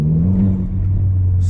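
An MK4 Golf GTI engine with a new exhaust revs freely in first gear, a loud, close, droning rumble with a slight rise and dip in pitch over a short burst.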